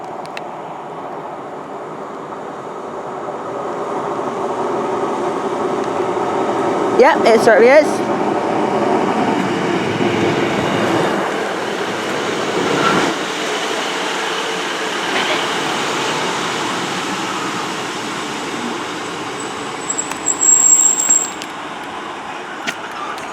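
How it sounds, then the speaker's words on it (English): A Great Western Railway service from Cardiff Central to Taunton rolls into Severn Tunnel Junction with a loud sustained rumble and rising wheel noise, a brief squeal near the end, and someone speaking briefly. "coming in now is 1527 Great Western Railway service to Taunton from Cardiff Central"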